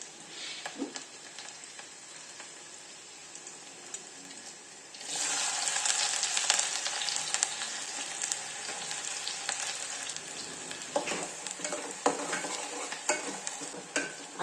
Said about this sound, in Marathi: बघा आपला कांदा छानपैकी गुलाबी रंगावर झालेला